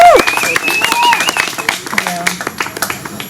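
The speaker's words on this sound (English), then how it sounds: "I see a couple of people clapping" Scattered clapping from a few people in the audience at a celebration-of-life memorial gathering, light irregular claps mixed with voices and a brief tone over steady murmuring room talk.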